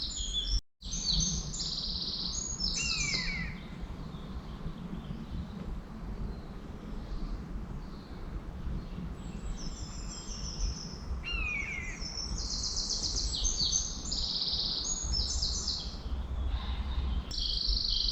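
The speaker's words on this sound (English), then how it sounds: "We've got wrens, we've got finches, we've got robins, we've got tits, we've got pheasants, we've got buzzards." Woodland birds including wrens, finches, robins and tits singing, with bright trilling and chirping phrases repeated by several birds at varying distances over a soft insect hum and a quiet background.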